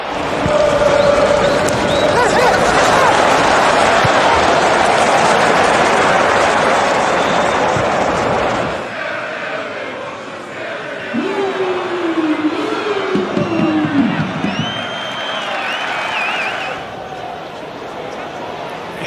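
A football stadium crowd applauds and roars at a skill move, a dense, loud wash of clapping and cheering that holds steady for several seconds before cutting to a quieter, thinner crowd murmur with faint tonal calls above it.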